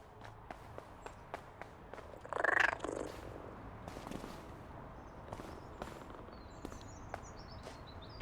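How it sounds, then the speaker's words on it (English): A cat purrs in the video game PowerWash Simulator 2, a faint, soft purr rising briefly over quiet background ambience, with scattered light ticks and footstep-like taps around it. "Here's another cat."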